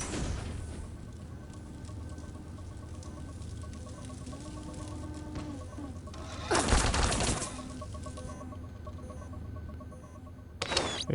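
An automated turret in Deus Ex: Invisible War firing, with a sustained burst of loud gunfire standing out over a steady game background hum, then a short second burst near the end.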